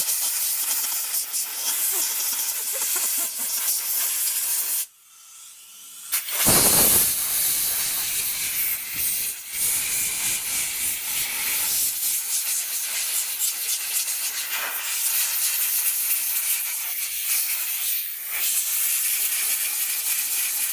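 Compressed air from an air nozzle blowing cleaned motorcycle carburetor parts dry, a loud continuous hiss with a brief pause near five seconds, then a stronger burst and more sustained blowing.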